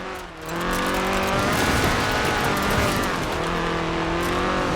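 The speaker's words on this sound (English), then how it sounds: "The RS 1800 raced to victory after victory across the rallying world" In Forza Horizon 4, a Ford RS 1800 rally car's engine revs hard and steady, close and loud, with tires squealing and skidding under acceleration and no voices.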